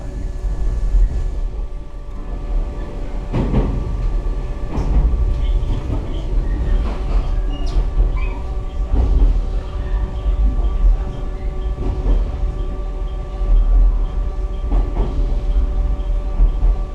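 Steady low rumble of a train on the Ube Line in Yamaguchi, Japan, heard from inside, with occasional clunks and rattles over a constant drone.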